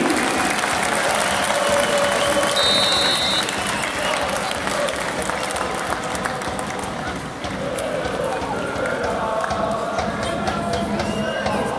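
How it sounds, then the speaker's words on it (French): A stadium crowd at a football match applauds former player Vladan Lukic, a broad continuous roar of clapping and cheering that holds steady throughout, with a few brief whistle-like tones above it. "On l'applaudit."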